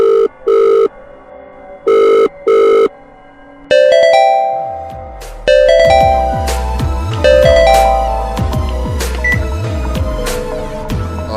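A telephone rings in a cartoon as a call goes out to a property dealer, with several bright repeated ring bursts followed by a run of layered chime and bell tones, loud and with no voices.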